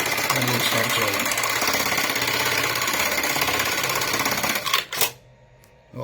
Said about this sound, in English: click down on the pedal even more, and we'll start sewing.